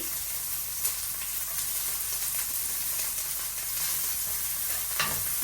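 Chopped onion and green chili frying in a pan on low heat, giving a steady close sizzle with faint stirring scrapes and a couple of brief clinks, no voices.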